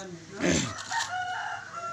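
A rooster crows once nearby, a short rising call over faint background noise.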